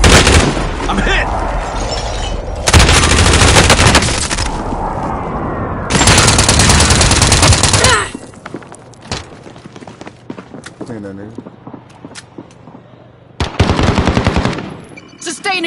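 Automatic gunfire in the battle royale shooter Call of Duty Warzone: long, loud machine-gun bursts crackle in separate volleys, with quieter gaps between them carrying ambient game noise and voices talking.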